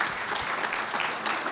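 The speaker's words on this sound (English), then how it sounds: "give them a big round of applause." Audience applause at a campus debate event, a steady dense patter of many hands clapping throughout, fairly loud and continuous with no speech over it.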